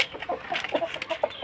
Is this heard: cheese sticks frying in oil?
no